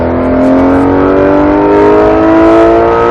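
A Porsche GT3 RS accelerating hard on a race track, its engine note climbing in a loud, sustained, close-up rising wail that holds steady throughout, with no talk over it.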